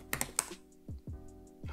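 Keystrokes on a computer keyboard while entering a command in a terminal, a quick cluster of clicks near the start followed by a few isolated, sharper taps, close and fairly quiet.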